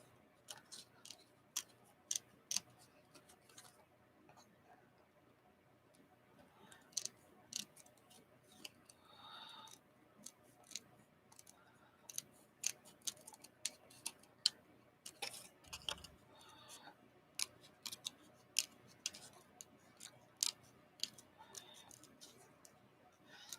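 Paper being cut with scissors at a craft table making bingo cards, a quiet series of crisp snips and clicks in uneven rhythm, mostly alone with faint room sound.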